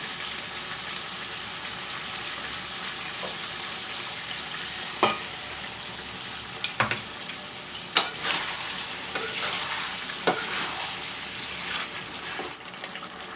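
Ginger, garlic and jeera masala paste fries in a pan with a steady broadband sizzle, interrupted by occasional scraping stirs and soft clinks, close and continuous with no talking.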